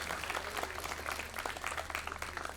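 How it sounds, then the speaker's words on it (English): Scattered, hesitant applause from an audience at a literature festival talk in Bangalore, a thin patter of hands clapping steadily for a few seconds with no voices over it. "I can see some shy people trying to clap"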